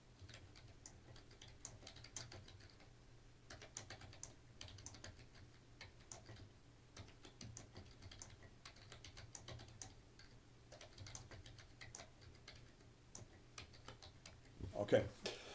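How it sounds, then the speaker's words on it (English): Rapid, quiet clicking of a computer keyboard as text is typed, continuous and fairly even over a low background hum, with a slightly louder clatter near the end. "as I'm typing the text in here"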